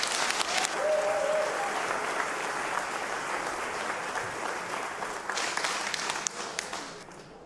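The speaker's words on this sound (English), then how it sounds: "Give them a big applause" An arena crowd at a Levels Fight League event claps for the fighters in the ring, a sustained dense burst of applause with some cheering that tapers off toward the end.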